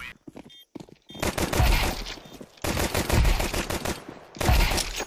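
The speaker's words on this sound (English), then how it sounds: "Good wall bangs onto Hunter." Loud bursts of rifle fire in a Counter-Strike 2 match, with rapid, dense volleys shooting through walls in several separate sprays and short gaps between them, sounding close and punchy.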